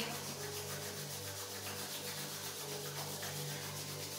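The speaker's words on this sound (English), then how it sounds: "Give your hands a warmth with your rubbing. Rub your hands, rub." Hands rubbed briskly together to warm them during a seated yoga session, giving a soft, steady dry friction sound, continuous and quiet with no talking.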